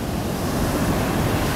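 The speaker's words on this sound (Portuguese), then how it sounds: "Altas ondas." Surf on a Brazilian beach during a live session, sets of waves over a metre tall breaking and washing ashore in a steady, loud roar with some wind noise, no voices.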